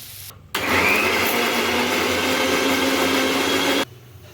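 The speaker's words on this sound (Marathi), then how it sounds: "हे मिश्रण गार झाल्यावर मिक्सरला वाटून घेऊया" A kitchen mixer grinder whirs loudly and steadily close by as it purees a cooked tomato mixture for rajma curry, running for about three seconds before stopping abruptly.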